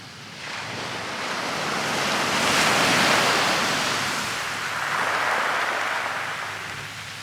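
Ocean waves wash onto a beach in a continuous, loud surf roar that swells, eases slightly and builds again, with wind noise mixed in and no voices.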